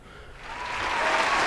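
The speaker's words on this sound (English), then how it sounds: "Can we join our hands together and give a round of applause to Ibrahim Traore?" Audience applause at a talk honoring Ibrahim Traore, a short burst of clapping that builds from quiet to a full, dense wash within a second and a half.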